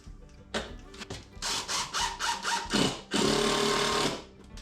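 Screw being driven by a power drill into wrench storage at a workbench, several short whirring bursts followed by a longer sustained drive, close and fairly loud with no talk.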